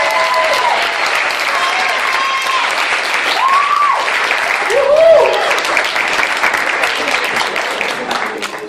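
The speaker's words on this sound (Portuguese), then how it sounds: "E aplausos, né, pessoal?" Sustained audience applause fills a literary panel on fantasy fiction, steady and dense throughout, with a few scattered voices and whistle-like tones rising briefly above the clapping.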